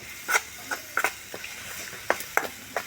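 Ingredients for a palya with peanuts being stir-fried in a pan on a stove: a soft background sizzle broken by about ten irregular sharp clinks and scrapes of the spatula against the pan.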